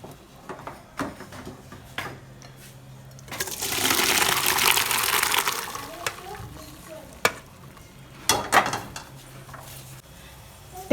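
Boiled pasta is tipped into a strainer and water pours off in a broad rushing splash lasting a couple of seconds, surrounded by clinks and knocks of pots and utensils in a kitchen.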